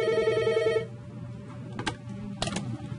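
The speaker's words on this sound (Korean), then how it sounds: "쉴 새 없이 걸려오는 다급한 전화 때문에 직원들이 전화기를 손에서 놓을 수 없습니다." An office telephone rings with a bright electronic trill for almost a second, then stops, leaving low room noise, keyboard taps and a couple of short clicks and clatters from desk activity.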